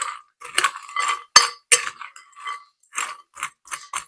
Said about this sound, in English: I'm going to use a spoon and get all this mixed up